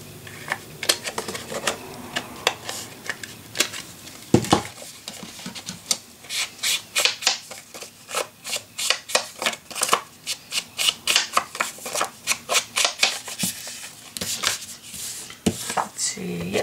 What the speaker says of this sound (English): Now, next thing, I'm going to cut this.